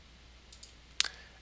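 A few quick, faint computer mouse clicks during desktop setup in Zorin OS 6 Linux, a soft pair of ticks followed by one sharper click and a brief rattle, with no voices.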